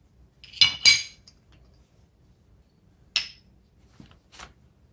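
Small ceramic trinket dishes, one decorated in Delft-style blue, clink together as they are handled, two quick bright chinks close together, then two lighter taps a few seconds apart in a quiet room.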